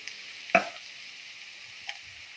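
Ginger garlic paste fries with spices in a pan for chicken kofta curry: a soft, even sizzle with a sharp utensil clink near the start and a lighter tap later, no voices.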